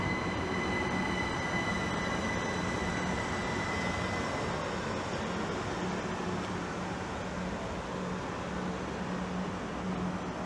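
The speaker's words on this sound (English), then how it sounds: "the 1404 Great Western Railway service from London Paddington to Didcot Parkway" A Class 387 electric train rolls past Maidenhead station steadily with a broad rushing roar, a faint high whine running through it, continuous for several seconds.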